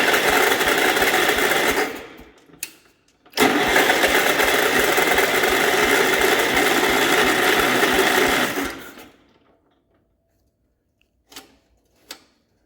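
A 1967 Gravely 430 engine, left sitting outdoors for years, cranks in a loud, steady mechanical churn that stops, starts again for several seconds, then cuts out, leaving near silence and a couple of faint knocks.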